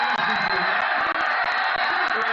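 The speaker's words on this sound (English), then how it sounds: "The crowd is going insane." A Nepal Premier League cricket crowd at Pokhara Avengers versus Lumbini Avengers roars and cheers continuously, a dense, loud wall of shouting and whooping throughout.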